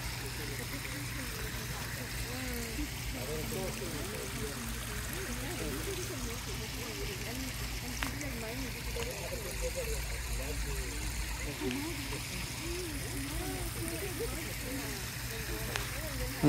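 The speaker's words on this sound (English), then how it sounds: "We're going to extend the waterfall because this is just a testing to see how the water flows" Water from a half-horsepower submersible pump spills down a newly built backyard pond waterfall, a steady trickling splash that runs throughout under a voice talking.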